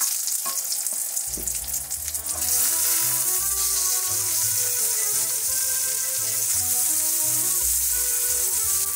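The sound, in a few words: Brussels sprouts sauteing in pan without liquid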